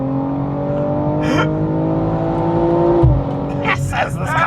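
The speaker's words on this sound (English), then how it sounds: "That was my first time experiencing the launch as a passenger." A BMW M240i G42 accelerates hard from a launch, its engine note climbing through the revs with a shift-like break partway, heard from inside the cabin alongside brief voices and road noise.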